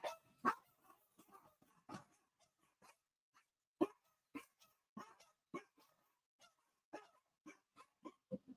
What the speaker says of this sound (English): so they're probably going to bark for a minute.